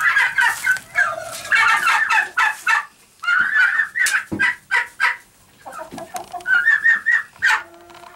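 A flock of turkeys gobbling loudly and repeatedly nearby, overlapping calls in bursts with brief pauses between them.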